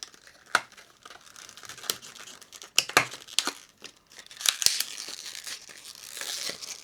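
Stiff plastic packaging around laptop RAM is torn and crinkled open by hand. Close, uneven bursts of ripping and crackling come in fits, with a few sharp snaps and a longer crinkly stretch near the end, and no talking.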